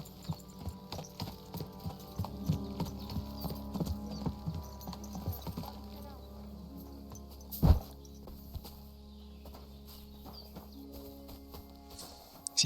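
Horse hooves clip-clop steadily at a walking pace in the medieval game Kingdom Come: Deliverance II, a close rhythmic patter over low ambient game sound, with one sharp louder hit midway.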